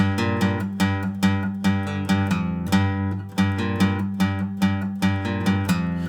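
Electric guitar playing a riff with the strings left to ring out unmuted, sustained notes overlapping in a steady repeating pattern, close and alone without voices.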